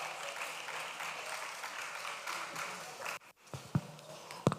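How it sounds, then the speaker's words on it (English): Audience applause at an agribusiness summit as a woman comes forward, a steady mass of clapping that stops abruptly, followed by a few isolated knocks and taps. "Please clap for her."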